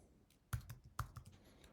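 Close, quiet keystrokes on a computer keyboard as a spare part code is entered, a handful of soft clicks with two sharper taps, no voices.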